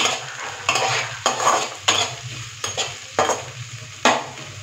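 Onions and cashew nuts fry in a pan with a steady close sizzle, broken by about eight loud scraping strokes of a spatula as they are stirred at a roughly regular rhythm.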